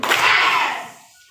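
A sharp burst of group hand claps from a classroom of students doing a 'tepuk' clapping routine before a lesson; one loud smack-like clap ringing out and fading, with no voices.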